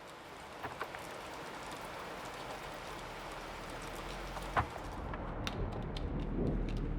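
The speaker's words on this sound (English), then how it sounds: "This morning it is 50 degrees, it is raining" Steady light rain falls on a cold 50-degree morning under a freeze warning, a constant soft hiss of drops that continues without pause and with no one speaking.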